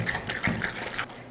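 Water is stirred into thick batter for paniyaram, giving faint, brief wet sloshing and squelching bursts in an uneven rhythm, soft and close, with no voices.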